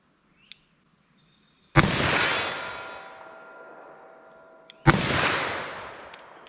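.357 Magnum revolver fired double action: two loud, sharp gunshots about three seconds apart, each with a long ringing decay, and a faint click before the first.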